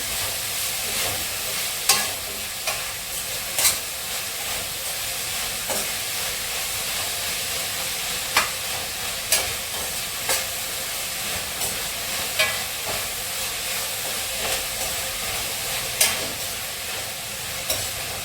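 Onions sautéing with salt for duck curry make a steady, close sizzle, with stirring and occasional sharp scrape clicks against the pan throughout.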